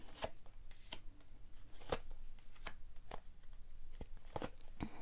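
Tarot cards being shuffled in quick riffles, with a series of sharp flicks and rustles close by, faint voices underneath.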